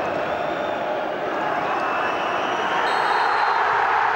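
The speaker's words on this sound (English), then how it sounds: "A giant cheer from the Birmingham City supporters tells you all you need to know" Birmingham City supporters cheer at Molineux stadium, a broad sustained roar from a large crowd that swells slightly and carries on without a break.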